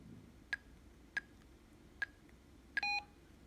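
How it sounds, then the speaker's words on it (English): A Motorola Saber radio dials an access code in DTMF tones: four short, evenly spaced beeps are followed by a slightly longer tone, all quiet against a low background hiss. "We can dial our access code."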